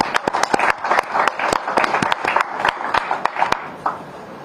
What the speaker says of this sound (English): So a big round of applause, please join me for Tanisha Krasto.